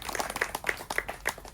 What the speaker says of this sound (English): Well, I reckon we could have a practice clap.